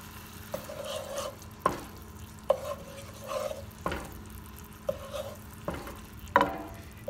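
Butter melting into a lemon cream sauce over a low flame, with a steady soft sizzle broken by periodic scraping strokes of a utensil stirring the pan, close and fairly quiet with no talking.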